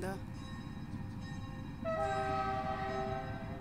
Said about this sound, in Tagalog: the train is passing by. The cargo train.